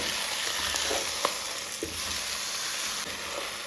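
Large chicken pieces sautéing in a pot for biryani, giving a steady, moderately quiet frying hiss with a few faint stirring knocks.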